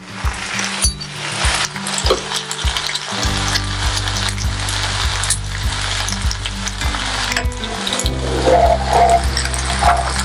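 A thick Korean pancake packed with vegetables and crab sticks fries in a pan with extra oil added, giving loud, steady sizzling and spitting with occasional scraping clicks from a utensil, no talking.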